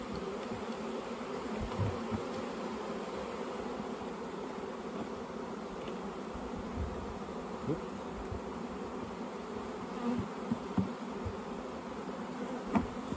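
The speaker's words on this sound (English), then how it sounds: "Little bees are just marching into the queen." Steady, dense buzzing of many honeybees close by as they march in to the queen, continuous throughout with occasional faint knocks and bumps.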